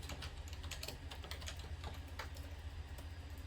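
Rapid, uneven keystrokes on a computer keyboard, quiet and close, clicking in quick bursts over a low background hum.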